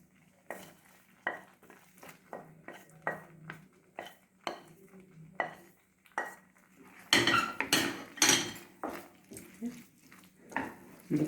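Vegetables being stirred in a pan for white sauce pasta, a spoon scraping and clinking against metal in a steady series of strokes that grow louder and busier toward the end, with no talking.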